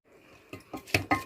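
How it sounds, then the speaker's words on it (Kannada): Cooled roasted ingredients drop into a steel mixer jar, three or four quick, close, clinking knocks after a soft rustle, in a quiet kitchen. "ಇದಷ್ಟನ್ನು ನಾನು ಈಗ ಮಿಕ್ಸಿ ಜಾರಿಗೆ ಹಾಕ್ಕೊಳ್ತಾ ಇದ್ದೀನಿ"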